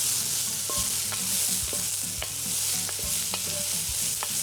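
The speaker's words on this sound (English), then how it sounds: "I'm just gonna cook that until the onions get like a little translucent." Onions frying in a pan on an RV stove, a steady close sizzle with intermittent clinks and scrapes of a utensil stirring, no voices.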